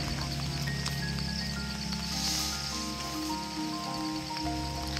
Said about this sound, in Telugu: Next day morning, it's raining still continuously.